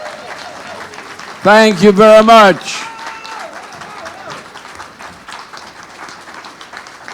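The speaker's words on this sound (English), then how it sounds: "Please, with a round of applause," A crowd at an MLK Jr prayer breakfast claps in a brief burst as a guest is welcomed, a short loud clatter of hands that fades quickly into room noise and someone speaking.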